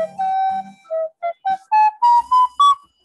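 A flute muted with a cardboard medicine box plays a short rising series of separate notes, soft and slightly muffled, alone and close by.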